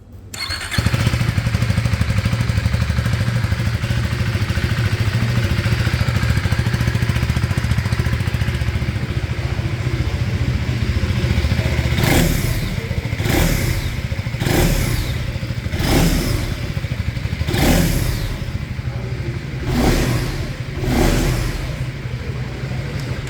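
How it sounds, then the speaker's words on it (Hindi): A KTM 350 Adventure's 350cc motorcycle engine starts up close and settles into a steady idle, then gets a series of sharp throttle blips, each revving up and falling back. "तो आइए सुन लेते हैं इस न्यू 350cc इंजन की साउंड। तो स्टार्ट करते हैं इसको।"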